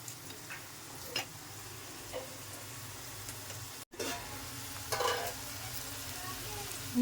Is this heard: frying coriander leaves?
yes